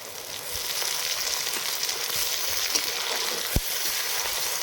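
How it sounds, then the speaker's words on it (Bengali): Onions frying in a pan for a spiced duck curry after cardamom, cloves, cinnamon and bay leaf have gone in: a steady, even sizzle with a few small pops and one sharp tap, heard alone without talk. "পেঁয়াজটা একটু ভেজে নেব।"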